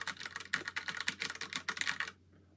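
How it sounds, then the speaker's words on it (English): Typing on an Astrohaus Alpha keyboard with large, typewriter-like keys, a fast stream of loud, close clacks for about two seconds before it stops. "These are much more like an old-fashioned typewriter, a real computer entry keyboard"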